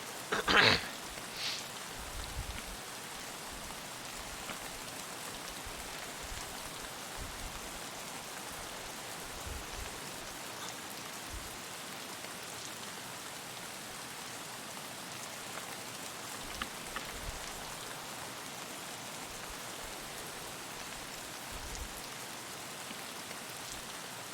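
Steady rain in Escape from Tarkov falls in a constant soft hiss, even and unbroken, with a brief clatter at the start and no voices.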